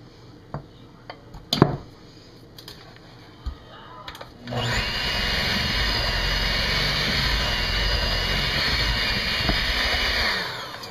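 An electric mixer runs on low speed, working flour into chocolate chip cookie dough. A few light clicks and knocks come first, then a steady, loud motor whir holds for about six seconds before trailing off.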